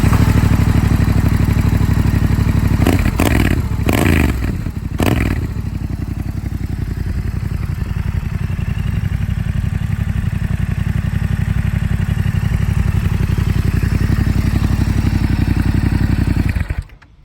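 A loud Yamaha XSR700 motorcycle with an aftermarket exhaust, decibel killers removed, idles and revs steadily with a deep, raspy note, a few sharp clattering bursts early on before it cuts off.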